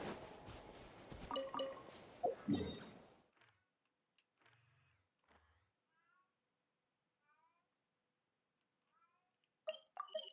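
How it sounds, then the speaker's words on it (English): A few soft meows from a cat at a distance after a stretch of louder clattering and clicks, then quiet. "Oh, my cat's meowing."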